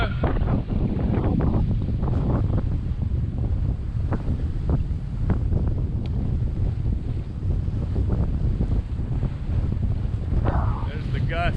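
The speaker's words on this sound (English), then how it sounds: "There's the gusts across here." Strong wind gusts buffet a heeling sailboat at sea on an open-water passage between Caribbean islands, a constant roaring rush of wind over the microphone with water noise beneath and faint voices in the background.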